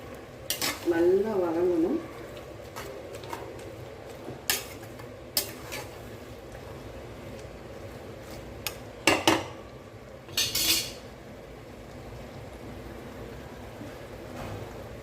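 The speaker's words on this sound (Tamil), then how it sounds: "பார்க்கலாம் பாருங்கள் எல்லாமே சுருங்கி எண்ணெயில் வதங்கிட்டுருக்கு" Gongura leaves sauté in oil for pickle, a low steady sizzle under occasional sharp clinks and scrapes of a spoon stirring against the pan, close and fairly quiet, with no clear talk.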